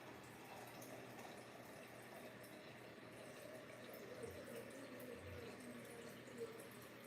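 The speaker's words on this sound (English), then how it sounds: "we're going to put in the cups of water." Filtered water pours steadily into a cooking pot for okra filé gumbo, a soft continuous trickling and splashing that runs for several seconds at low level without talk.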